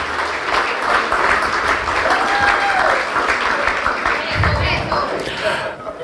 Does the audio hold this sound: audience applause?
yes